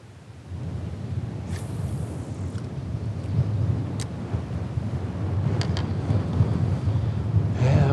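Gusty wind outdoors on the water while fishing, a steady loud rumbling roar buffeting the microphone and growing slightly stronger toward the end, with a few faint clicks.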